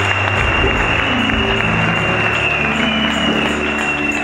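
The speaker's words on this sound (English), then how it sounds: "Give a clap of it to Jesus" A church congregation claps together in a steady, dense wash of applause at a worship service, loud and continuous for a few seconds with faint crowd murmur.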